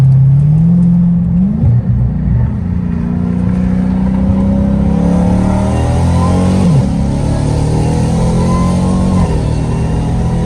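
A straight-piped Dodge Challenger Hellcat Redeye roars loudly from the driver's seat, its engine note climbing and dropping through several shifts and rev changes over a constant deep rumble.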